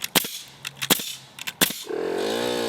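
A pneumatic nail gun fires nails into a beam as a toenailing job, in a quick run of sharp, loud, close snaps, and then a DeWalt pancake compressor starts up with a steady motor hum.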